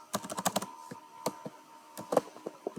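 Irregular bursts of keystrokes on a computer keyboard while code is entered, close and fairly quiet, in quick clusters with short pauses between them.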